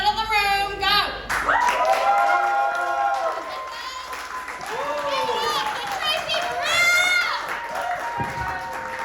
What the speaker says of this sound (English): biggest applause possible